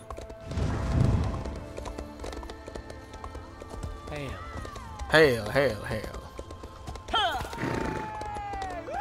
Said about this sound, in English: I can still summon my horse while in Wraith form